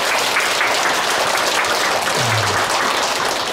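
A Buddhist temple audience at a Wednesday dharma service claps for a monk after his sermon, a dense, steady wash of applause that stays loud throughout.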